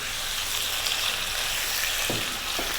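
Boneless lamb leg pieces dropped into a hot pan for a restaurant-style lamb dopiaza curry, giving a loud, dense, continuous sizzle close by with a couple of soft knocks near the end.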